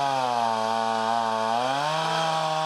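Small chainsaw with a recently repaired rotten fuel line, droning at a high, steady pitch as it cuts through dead standing trees on a ranch, the engine note dipping slightly under load; no voices.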